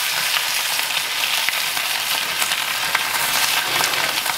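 A reverse-seared steak sizzles hard in a hot cast iron skillet, a dense steady frying hiss with scattered crackles and pops, close and loud with no voices.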